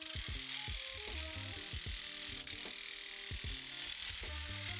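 A steady hiss of a Graco TrueCoat 360 electric paint sprayer runs continuously, with a low mechanical hum and rhythmic pulsing tones underneath throughout.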